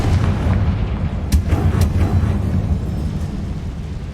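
The Confringo fire spell in the Hogwarts Legacy video game bursts into a heavy, rumbling boom with a few sharp cracks over a dense low roar that lingers for several seconds.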